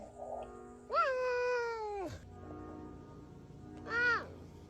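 Small cat meowing, two clear, drawn-out meows, the first long and falling in pitch, the second shorter, close and fairly loud against a quiet background.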